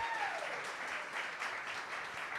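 Audience at a business talk event applauds in a steady, continuous wash of clapping that holds at an even, moderate level throughout.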